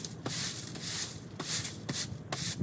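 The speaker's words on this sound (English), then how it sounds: "We're just going to sweep these off before we pressure wash or apply any chemical" A broom sweeps leaves and asphalt debris off a driveway before pressure washing, giving repeated scratchy, brushy strokes about every half second, close and alone.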